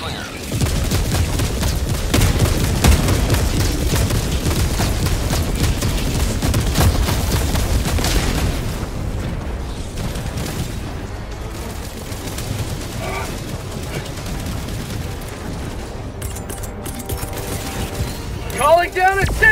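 Orbital barrage striking a bot outpost in Helldivers 2 on PS5: dense, rumbling booms and rolling detonations fill the first half, easing into scattered blasts, gunfire and game effects.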